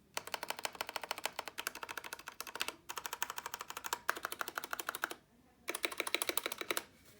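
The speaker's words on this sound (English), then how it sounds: "Just hear these stabilizers real quick." Fast, crisp keystrokes clatter on an Apex True RGB 60% keyboard fitted with Kailh linear switches and stabilizers, heard close and alone in quick bursts separated by two brief pauses.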